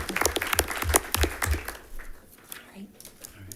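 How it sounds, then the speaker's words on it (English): Audience at a school district board meeting applauding teachers: a short burst of clapping that fades after a couple of seconds, with talk over it. "So a big round of applause for our teachers."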